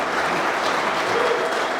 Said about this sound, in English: give Dushan several rounds of applause